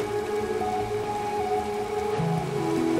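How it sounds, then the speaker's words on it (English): Steady rain in Minecraft hisses across the whole clip, a dense even patter with faint tonal hums underneath and no voices. "Oops, starting to rain, starting to rain"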